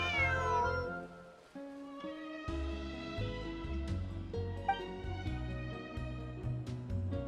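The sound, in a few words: missing cat meowing in Genshin Impact video game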